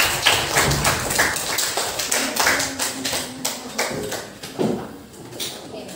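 Students clap their hands in a university classroom: a run of sharp, fairly regular claps from a small group, close and distinct, thinning out toward the end, with faint room noise and a brief low thump between them.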